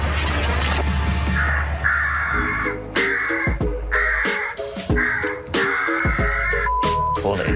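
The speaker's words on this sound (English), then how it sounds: "See how long it takes before the crows start circling." Crows caw loudly and repeatedly in a steady rhythm, drawn to an electronic distress caller set on a neighbour's shed roof, with several birds calling close by.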